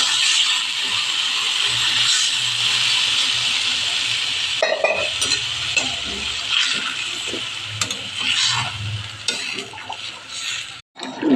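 Water is poured into a pan of frying egg and potato curry. A loud, steady sizzle gives way to bubbling and crackling, with stirring clatter and brief knocks toward the end.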